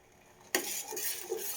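A spoon stirs a cornflour and milk mixture in a pan, starting abruptly after a quiet moment with close scraping and clinking strokes.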